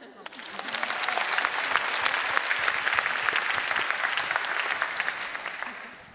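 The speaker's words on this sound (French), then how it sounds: "On l'applaudit." Sustained applause from a crowd, dense clapping swelling quickly and holding steady before tapering off at the end.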